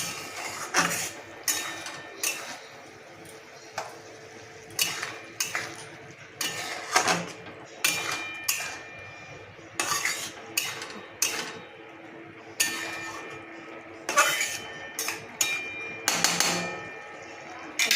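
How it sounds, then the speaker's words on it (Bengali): A spoon stirs rohu fish roe with curry leaves in a pan, giving repeated sharp scraping and clinking strokes in an uneven rhythm that runs throughout, close and fairly clear. "এবার আমি নাড়তে থাকবো।"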